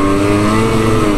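Lynx Boondocker 850 snowmobile engine revving loud and close outdoors in snow, a steady droning roar held throughout the brief moment.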